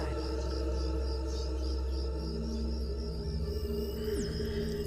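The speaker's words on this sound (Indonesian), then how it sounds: "Hanya terdengar suara-suara jangkrik dan suara khas keheningan malam" Steady insect chirping, like crickets at night, continuous and moderately quiet, with a faint tonal sweep near the end.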